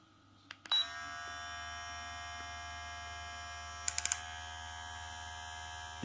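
A VGR V682 hair clipper switches on after a couple of clicks and runs with a steady electric buzz and hum, close and continuous, with a few quick beeps partway through.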